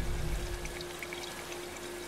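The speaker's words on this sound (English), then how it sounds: "The helitanker is over the wildfire zone. Get ready for water extraction." Water pours in a steady rushing stream during a helitanker's water extraction over a wildfire zone in Life is Strange 2, with a constant tone running beneath the flow.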